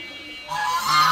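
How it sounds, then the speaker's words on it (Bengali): Geese honking loudly and close by, a king goose among them during the egg season, with harsh, continuous honks growing stronger through the second half. "রাজহাঁসের আওয়াজে ভিডিও করা যাচ্ছে না।"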